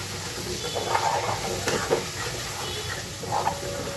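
Cumin frying in hot oil gives a soft, steady sizzle close by, broken by a few brief stirring scrapes of a utensil in the pan.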